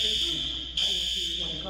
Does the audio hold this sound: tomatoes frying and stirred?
no